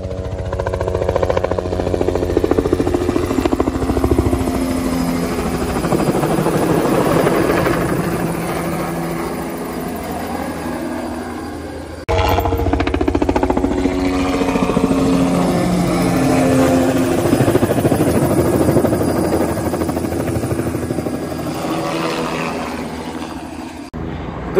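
Helicopter hauling bundles of Christmas trees on a US tree farm, a loud continuous rotor thump and engine roar close by, steady throughout with a brief cut partway through.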